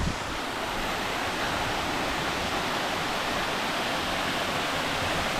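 Krem Chympe waterfall in Meghalaya roars as a steady, broad wash of rushing water heard close, unbroken and even throughout with no voices.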